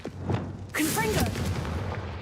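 The Confringo blasting spell in a Harry Potter video game goes off with a sharp explosive burst followed by a roaring, crackling blast that lingers, with a spoken voice also present.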